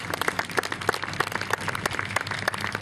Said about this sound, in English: Told you he liked applause.